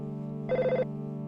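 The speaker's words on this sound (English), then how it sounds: "But the phone's ringing." In the role-playing game EarthBound, a telephone gives one short burst of trilling ring over a steady background music drone, loud and close.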